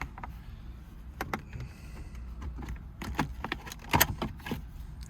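Plastic storage compartment being pulled up and popped out of the center console of a 2015 BMW i8: close scraping, rattling and clicking of trim, with a sharper snap near the end.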